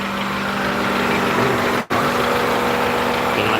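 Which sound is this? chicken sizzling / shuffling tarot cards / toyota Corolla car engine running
toyota Corolla car engine running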